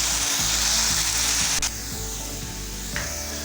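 Potatoes fry in hot oil with a steady, bright sizzle, loud at first and then a little quieter, with low rumbling knocks underneath and no talking.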